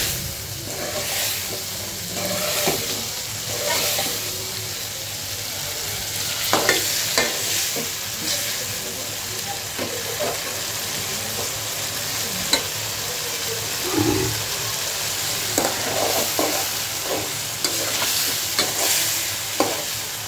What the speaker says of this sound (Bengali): এবার একটু জল দিয়ে কষিয়ে নিই